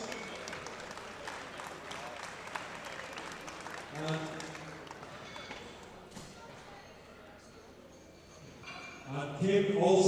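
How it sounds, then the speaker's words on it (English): Audience applause at a medal ceremony during a world classic powerlifting championship, a steady spread of clapping through a large hall, with voices mixed in and a louder burst near the end. "Give a round of applause"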